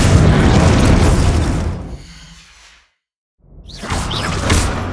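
A Glacius ice spell cast in Hogwarts Legacy: a loud, dense whooshing blast that fades into a brief silence, then a second burst of crackling, shimmering spell effects rises again.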